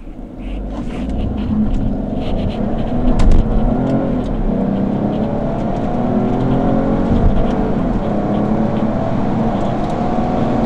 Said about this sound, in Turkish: Şimdi şurada bir daha bir sıfırdan dikmek istiyorum arabayı. Ama bu sefer spor modda.